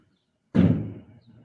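A door slams hard in a single heavy bang, close and loud, followed by a short rattling decay in an otherwise quiet space.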